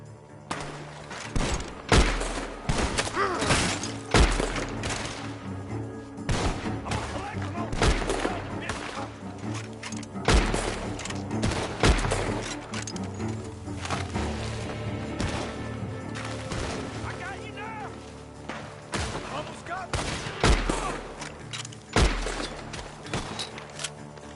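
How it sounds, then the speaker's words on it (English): Gunfire rings out from a barn in the video game Red Dead Redemption 2, with sharp shots cracking in irregular volleys throughout and voices speaking between and over them. "The gunshots are coming from that barn."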